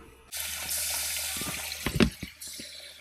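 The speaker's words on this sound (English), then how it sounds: "So I have this handy folding bucket, which I'm just filling up with cold water for now" Cold tap water gushes into a folding bucket, a steady close rush of filling water with a few splashy knocks near the end, no voices.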